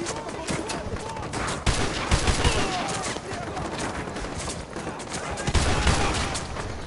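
Sustained gunfire in Modern Warfare 2 Remastered, rapid automatic bursts and single shots rattling continuously with some heavier reports, with a player talking underneath.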